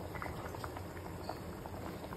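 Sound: sambar boiling in a pot

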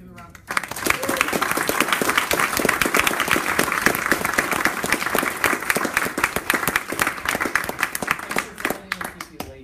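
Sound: audience round of applause

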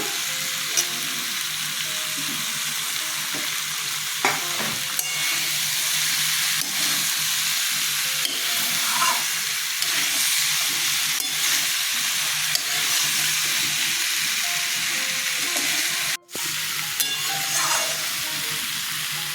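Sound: potatoes frying in a pan for elephant foot yam curry

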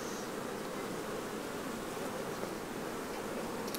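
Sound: honey bees buzzing at an opened hive

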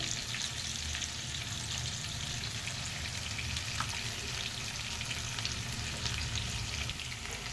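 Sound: frying drumsticks on medium heat

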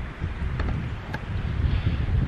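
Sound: wind at the beach

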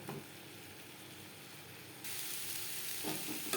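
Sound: stir-frying drumstick stalks with coconut in a pan

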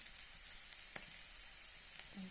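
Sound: curry leaves sizzling in hot oil

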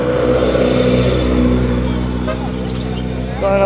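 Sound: rally car engine revving past

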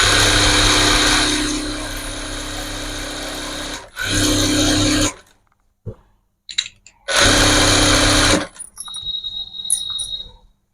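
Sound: power sewing machine stitching

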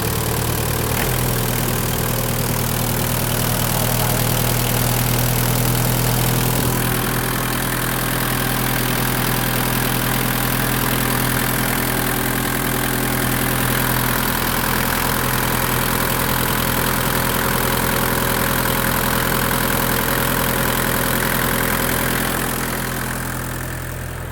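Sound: motorcycle engine idling

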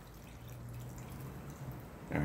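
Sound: pouring water into self-heating noodle pack

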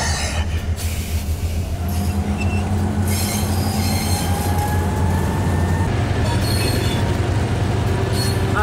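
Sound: train moving off in a train yard, wheels squealing

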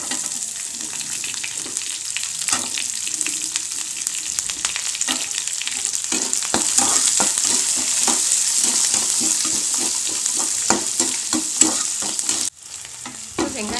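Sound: moong dal and onion sautéing in a pan

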